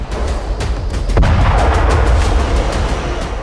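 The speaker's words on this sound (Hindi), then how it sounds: "आईडीएफ ने बारूद बरसाकर 8 से ज्यादा इमारतें जमींदोज कर दी" Buildings in southern Lebanon are hit by bombardment, bringing a loud, rumbling roar of explosions with one sharp blast near the middle and crackling debris continuing after it.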